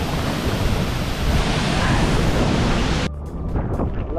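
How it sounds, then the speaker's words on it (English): Cascada La Reforma, a freshwater waterfall near Puerto Escondido, roaring as a loud, broad, steady rush of falling water that drops off suddenly near the end. "Love this waterfall."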